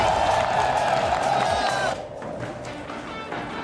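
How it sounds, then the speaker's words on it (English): An esports arena crowd cheers and roars loudly before an H2K versus Fnatic match, a dense sustained swell of voices that drops off sharply partway through into a lower murmur. "the crowd is absolutely hyped for a big day"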